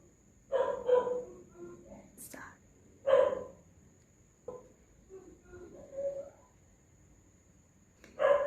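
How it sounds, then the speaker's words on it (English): Dogs bark in scattered bursts some distance away, with quiet pauses between, over a faint steady high hiss. "dogs barking in the background"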